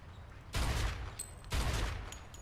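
Bursts of gunfire in Mafia II rake a car, two thick volleys of rapid shots about a second apart, full and booming, with faint high metallic pings trailing after each burst.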